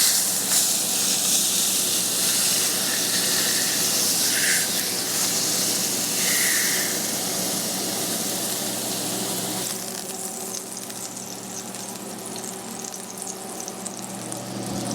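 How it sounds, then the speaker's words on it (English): Seasoned beef roast searing seasoned side down in a hot pan, a steady close broadband sizzle and hiss that holds loud for about ten seconds, then eases slightly quieter while still frying. "I'm gonna take my roast and I'm gonna put it seasoned side down. And just let this sear for a couple minutes."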